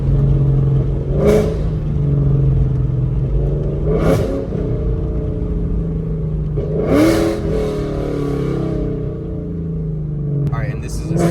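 A 2024 Ford Mustang GT with headers and loud exhaust downshifts, giving several sharp blips and crackles over a steady low rumble, close and loud.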